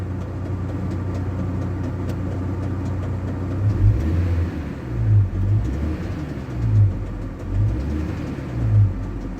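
A GAZ 2790 engine with a new chain tensioner idles with a low, rough rumble, joined by irregular heavier knocks that come and go every second or two, with no talk.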